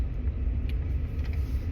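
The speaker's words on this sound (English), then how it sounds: "That's my truck vibrating." A 2017 Ford F150 with a 3.5 V6 twin-turbo EcoBoost idles with an ignition coil misfire, producing a heavy, uneven low rumble and shaking vibration heard up close inside the cab.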